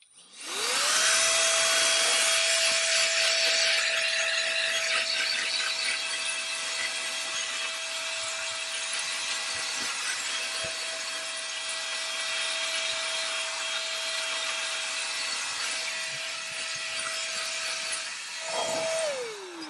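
A rechargeable variable-speed compressed air duster with a brush attachment blows dust away with a loud, steady high-pitched whine and hiss that holds for about eighteen seconds before winding down.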